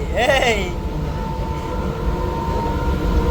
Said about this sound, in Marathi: ट्रेनमध्ये बसलो